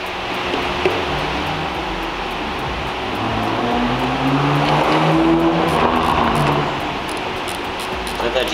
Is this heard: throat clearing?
no